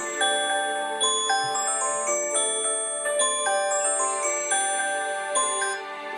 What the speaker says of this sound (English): that's my alarm to get up